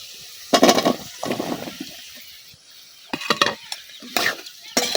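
Eggplant stirred into a frying spice paste of masala and shidol in a village kitchen, loud bursts of sizzling and scraping stirs separated by quieter gaps, close up with no talk.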